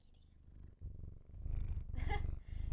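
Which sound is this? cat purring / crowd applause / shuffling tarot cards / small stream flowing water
cat purring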